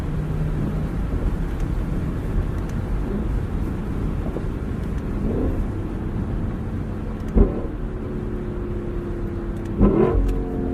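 A 2021 Lexus LC 500 Convertible's engine roar rumbles steadily throughout, with wind-like noise. Near the end come a couple of brief blips as the revs jump on downshifts.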